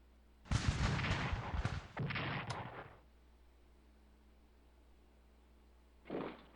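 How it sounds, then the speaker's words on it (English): Artillery bombardment in the Strategic Command: American Civil War strategy game: two heavy booming blasts in quick succession with rolling rumble, then quiet, followed by a softer distant thud near the end. "But I can bombard the unit in Glasgow."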